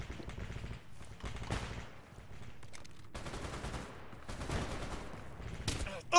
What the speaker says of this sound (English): It sounds like a lot of different guns as well.